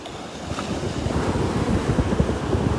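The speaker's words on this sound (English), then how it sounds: "Every once in a while there's some pretty nice little waves that break here along the shore." Small waves break along a sandy beach shore at Delnor-Wiggins, giving a continuous rushing wash of surf mixed with wind buffeting the microphone, steady and fairly loud with no voices.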